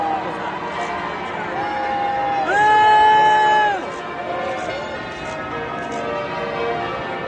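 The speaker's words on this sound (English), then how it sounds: "Here's some booing that went on from a different side of the crowd while they were going into the church." A crowd outside a church boos as people go inside, with drawn-out, wavering vocal tones rising over a murmur of crowd noise. The booing swells loudest in the middle, then fades back into the general crowd hubbub.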